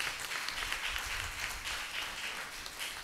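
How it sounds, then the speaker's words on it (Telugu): An audience at a religious anniversary celebration in Eluru claps together, a fairly faint but continuous patter of many hands with slight swells, no talk over it. "గట్టిగా క్లాప్ చేస్తాం మనకి."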